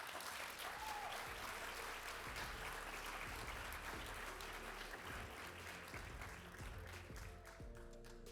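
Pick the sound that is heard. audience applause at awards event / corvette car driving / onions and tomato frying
audience applause at awards event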